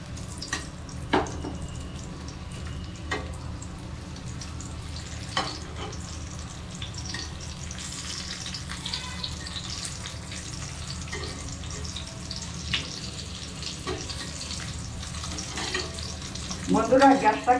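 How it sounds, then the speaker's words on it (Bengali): Homemade snacks frying in lightly heated oil over a low gas flame, giving a steady close hiss and bubbling with occasional soft clinks and stirring sounds, with no one talking. "এগুলো এবার তেলের দিয়ে ছেঁকে নেব"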